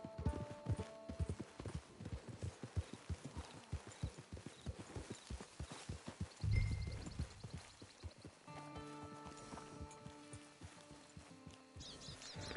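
Steady clip-clop of horse hooves walking at an even rhythm in Red Dead Redemption 2, then the footfalls give way to a brief thud and light game-like ambient sounds.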